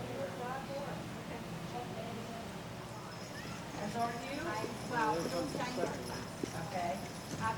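Draft horses hitched in tandem to a cart clip-clop in a steady rhythm at a 4-H fair, with an occasional whinny, under continuous talk over a loudspeaker.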